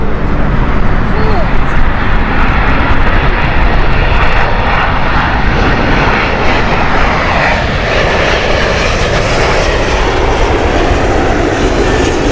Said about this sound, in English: So the 777 is inbound next. This is the Portland flight from British Airways with Speedbird flight 26 Victor.